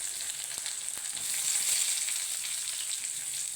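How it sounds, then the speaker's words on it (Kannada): Sliced onion, green chilli and tomato frying in hot oil for uppitu give a steady, bright hiss. A few soft stirring taps sound close by, and no one speaks. "ಎಣ್ಣೆ ಕಾಯಿದೆ, ಈರುಳ್ಳಿ ಹಾಕ್ತಾಯಿದ್ದೀನಿ. ಹಸಿಮೆಣಸಿನ್ಕಾಯಿ ಹಾಕ್ತಾಯಿದ್ದೀನಿ,"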